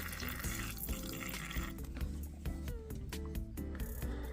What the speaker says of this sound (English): Just put some water in the water dish.